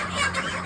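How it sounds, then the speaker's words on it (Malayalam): Broiler chickens clucking in a crowded poultry shed as they are grabbed by the handful, a dense continuous clamor of squawks and clucks up close. "അപ്പോൾ ഇതാ നമ്മളെ ഈ ഷെഡിൽ കോഴിപിടുത്തം തുടങ്ങിയിട്ടുണ്ട് കേട്ടോ"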